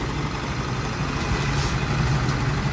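A Yamaha Aerox scooter fitted with a Gravis 150cc engine idles steadily, a constant low, rough engine hum with no talk over it.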